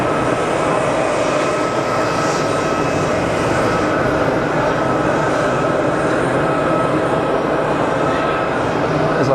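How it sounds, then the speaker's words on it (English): A Pilatus PC-12 turboprop taxis out at Geneva Airport, giving a steady droning engine hum with a faint tonal whine, constant and fairly near, with some talking in the background. "There's our PC-12 heading out."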